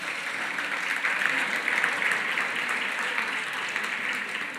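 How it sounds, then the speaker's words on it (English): An audience at a closing reception and dinner applauds in a large room, steady, even clapping that carries on at moderate loudness for several seconds without letup. "Give yourselves a big round of applause."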